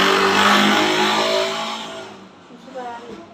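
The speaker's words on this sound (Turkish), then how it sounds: "Az önce motor sesi geldi bir kere." A car engine revs outside, loud at first and then fading away as it drops off, with voices talking over it.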